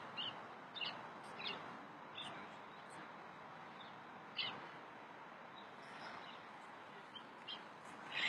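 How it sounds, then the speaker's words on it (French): Gulls calling around a lake beside the Bois de Vincennes, heard as scattered short, sharp cries at moderate distance over a steady outdoor background hum, with a few louder calls standing out. "Et puis évidemment, vous avez les gangs de mouettes."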